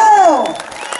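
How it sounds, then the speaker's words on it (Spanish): Applause and crowd noise at a quinceañera party during a bottle game in Michoacán, with a brief whistle-like tone at the start and a busy, steady clapping wash throughout one short second. "¿No quieren aplaudir?"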